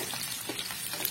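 Steady, dense patter of rain, an even hiss with soft scattered drops throughout, no voices.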